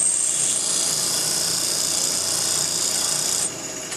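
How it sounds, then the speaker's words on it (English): A high-speed steel lathe tool bit is ground on a bench grinder as a right-hand tool, giving one steady, loud, continuous rasping grind that drops off abruptly near the end, with no talking. "One continuous grind all the way without digging into the tool."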